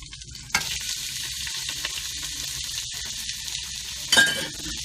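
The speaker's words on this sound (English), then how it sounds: "Into the same pan, drop the red onions" Red onions drop into a hot pan and burst into a loud, close sizzle that hisses steadily, with a brief metallic clink near the end and no voices.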